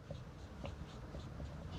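Marker or chalk writing on a classroom board, heard as quiet, rhythmic scratchy strokes that keep going over a faint background hum.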